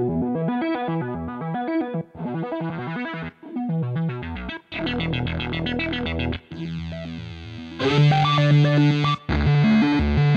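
Guitar run through BOSS SY-200 synthesizer preset patches, shifting between choppy arpeggiated synth sequences, bright chorused pads and distorted tones in short bursts separated by brief gaps, loud and close without talk.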